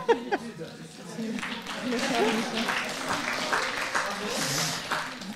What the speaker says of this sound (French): Donc on peut applaudir